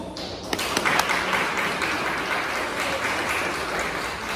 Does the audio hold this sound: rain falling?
no